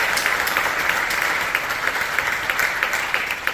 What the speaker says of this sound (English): Can we give those guys a round of applause?